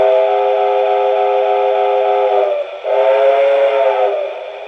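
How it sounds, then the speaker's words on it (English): A steady, loud steam whistle sound effect from a Lionel toy train blows with layered tones, briefly dipping midway before sounding again and tapering off at the end. "Let's go with the whistle."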